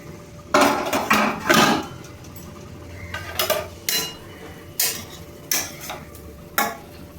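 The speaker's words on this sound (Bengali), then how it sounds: "এবার ঢাকাটা খুলে দেখে নেব" A cooking pot of boiled pumpkin, eggplant, pointed gourd and ivy gourd has its lid taken off, heard as a series of sharp, close metallic clanks and scrapes spaced across several seconds, with no talking.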